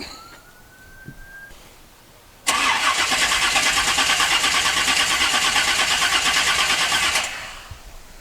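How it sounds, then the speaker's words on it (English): A Chevy small block V8 with roller rockers cranks on the starter for about five seconds, a loud, rapid, even churning that starts abruptly and stops, preceded by quiet shop noise and a faint rising tone. "I cranked the engine a few times on the driver's side."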